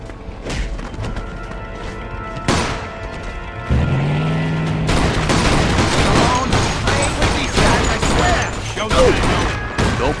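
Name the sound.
gunfire in shootout, video game Mafia II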